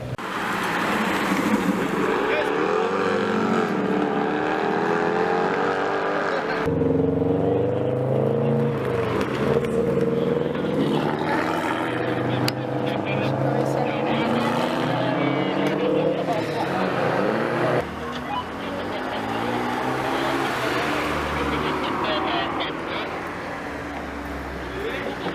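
Sports cars, among them a Nissan GT-R and a Mercedes, roll past at a Cars and Coffee festival, their engines humming and droning steadily while several people talk nearby throughout.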